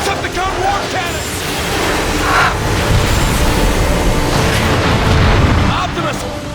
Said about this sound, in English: The Decepticon war cannons!